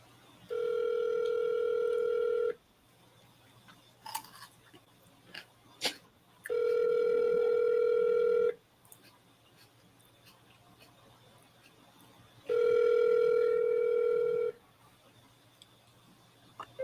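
Outgoing phone call ringing out: three long steady ring tones evenly spaced, each about two seconds, with quiet clicks and faint handling noises between rings.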